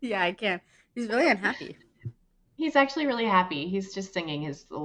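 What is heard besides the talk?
No everyday noises stand out.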